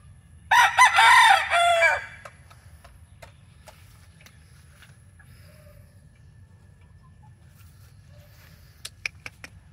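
A rooster crows once, loud and close, followed by quiet with a few faint clicks and short chirps near the end.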